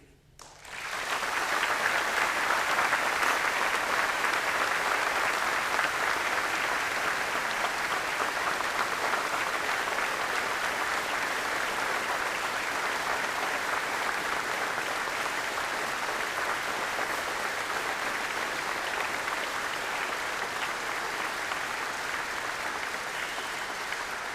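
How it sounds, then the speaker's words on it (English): Sustained audience applause at a memorial or honor ceremony with an honor guard present, a steady loud clapping from a large crowd that rises quickly and holds evenly without fading. "I'd like to have everyone give a round of applause for Matt's family."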